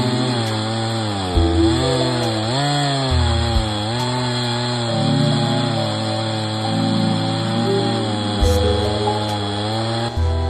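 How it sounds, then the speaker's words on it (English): A chainsaw cuts through a tree trunk, the loud engine note rising and sagging as the chain binds with friction in the kerf, steady and close throughout. "All that friction was working the saw pretty hard as well."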